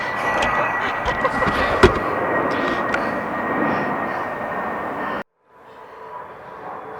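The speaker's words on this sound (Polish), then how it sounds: "Samolot, samolot leci sobie wesoło." An airplane flying overhead gives a steady, loud broadband roar for about five seconds, then cuts off abruptly to a quieter background hum.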